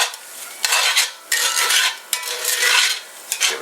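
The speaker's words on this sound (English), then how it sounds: "Give it a good mix around." A utensil scrapes and stirs pepper steak around a pan in repeated loud, rasping strokes with brief clanks between them, close up and with no talking.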